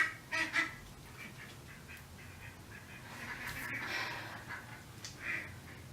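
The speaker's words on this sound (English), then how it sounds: "I don't know if you can hear my ducks that are fighting outside right now." Ducks honk and quack in scattered, agitated bursts from a distance outdoors, faint over a low background hiss.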